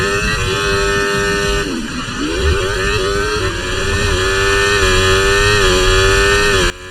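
Formula 1 race car engines in the game F1 24 at Monza, a loud, steady high-pitched whine holding near-constant revs with a brief dip in pitch, alone without talk.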